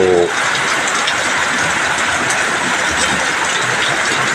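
Heavy rain pours steadily, a dense broadband hiss that stays loud and constant throughout, with no voices.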